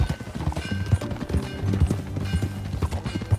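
Horse hooves clip-clopping at a steady walking rhythm in the Red Dead Redemption 2 video game, close and distinct, with a faint background musical tone and no talking.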